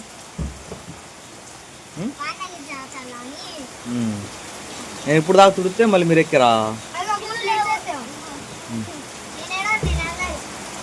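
Steady heavy rain hisses throughout as a backdrop, with people talking over it at close range.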